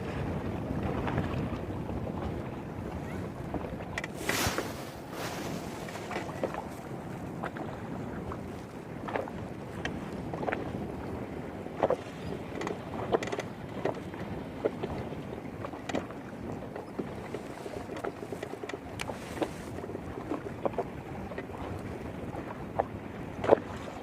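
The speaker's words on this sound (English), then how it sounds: "Wind's catching a little more than what I was expecting." Wind gusting over a fishing boat on a lake during a walleye championship, a continuous rumbling buffet with scattered knocks and water slaps, moderately loud and close, with no voices.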